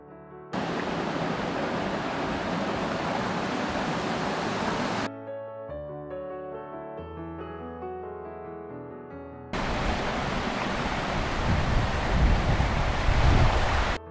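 Biryong waterfall, 7 m high, on a mountain temple trail at Jogyesan: a loud, steady broadband rush of falling water that cuts away for several seconds midway, then returns.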